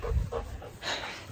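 Dogs pant at home on a warm day, a few quick breathy huffs close by, soft and airy against a faint background, with no voices.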